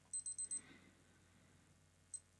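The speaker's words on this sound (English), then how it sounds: "we're going to have the alarm going off." A Casio digital watch alarm beeping in a quick high-pitched burst of four clustered beep groups, then silence and a single short beep group, close and clear in a quiet room.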